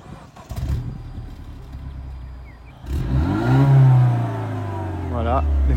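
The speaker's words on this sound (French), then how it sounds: "On va écouter le bruit. Un petit start-up à l'arrière." An engine catches and settles into a rumbling idle, then revs up in a rising and falling surge, loud and close, with a voice talking at the start.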